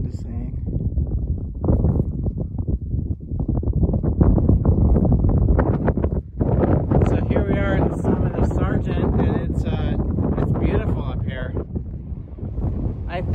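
Strong wind buffets the microphone on Sargent Mountain's summit in Acadia National Park, a loud continuous roar with gusty surges, while a person talks over much of it.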